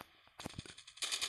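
Gunfire in Call of Duty Mobile, a mobile shooter game, comes as a quiet stretch and then bursts of rapid shots. A dense, louder volley near the end follows a few separate cracks.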